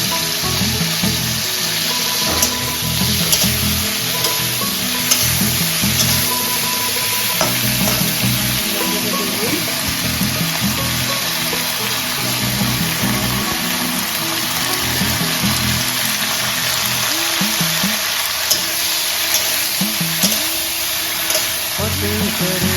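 Whole vegetables and potatoes frying in a pan for a jhol torkari curry, with a loud, constant sizzle broken by scraping stirring strokes and clattering utensils across the stretch, with no voices.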